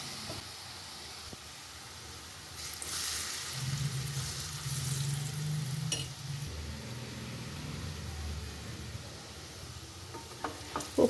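Bengal gram frying in a pan with salt, chilli and turmeric, being stirred: steady sizzle and hiss with scraping and occasional clinks of the utensil, close and moderately loud, no voices.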